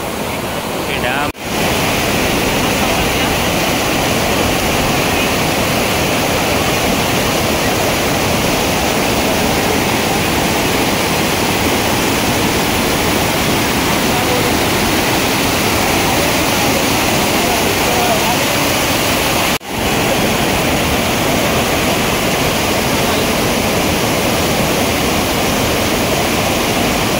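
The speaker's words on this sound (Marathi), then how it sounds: "सगळं पाणी इकडे वाहून येतं बुशी डॅमचं" Heavy water pouring over Bhushi Dam near Lonavala, a loud, steady full-force roar of broad rushing noise that fills the whole stretch without a break, close and constant.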